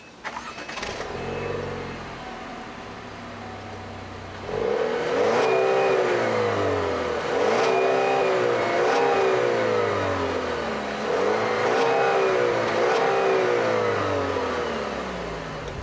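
A 2018 Buick Regal Sportback AWD's 2-liter turbocharged Ecotec four-cylinder engine starts, then revs repeatedly in rising and falling surges, loud and close, with a steady idle between pulls.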